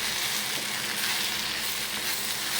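Tamarind frying in a pan for a mint and curry leaf chutney, giving a steady, close, even sizzle that holds without pause, with no talking over it.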